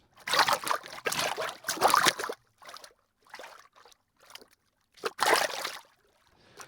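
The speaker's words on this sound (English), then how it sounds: "I'm getting the main footsteps that I feel were actually hitting the water, and then some like little burbles I was doing into the microphone" Foley footsteps splash in water in a series of uneven bursts, some clustered and some isolated, mixed with small wet burbling sounds made by a mouth into a microphone and separated by brief silences.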